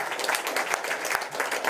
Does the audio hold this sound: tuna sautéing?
no